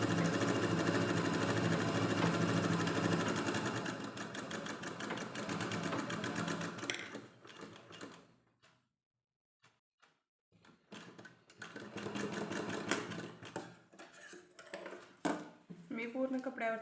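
An electric sewing machine stitches blouse fabric in a fast, even whir, stops for a few seconds of near silence, then runs again in shorter bursts broken by pauses.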